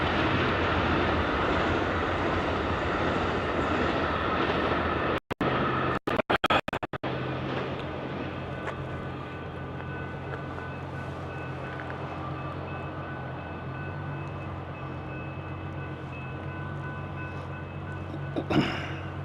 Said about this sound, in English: There's a train, the Amtrak.